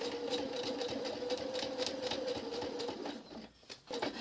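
A sewing machine stitches a quarter-inch seam on an autumn art quilt, running with a steady close mechanical whir that drops out briefly near the end before starting again.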